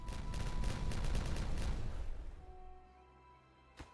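Explosives detonating in the video game Timberborn, a dense crackling burst of blasts that fades after about two seconds, followed by a lingering tone and a single sharp pop near the end.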